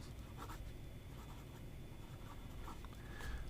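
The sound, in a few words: writing with a Hongdian gold-nib fountain pen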